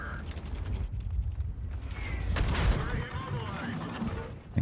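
Artillery shells land in World of Tanks amid battle noise, with repeated heavy booms and a dense rumbling burst near the middle, then a sharper blast at the end.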